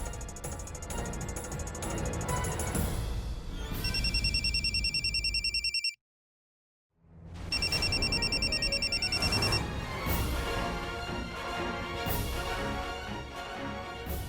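A telephone rings in repeated electronic bursts, loud and close, with a brief silent pause midway before the ringing resumes.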